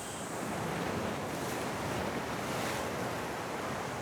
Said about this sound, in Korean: 이렇게 내내 파도 소리가 동행하는 그런 길입니다.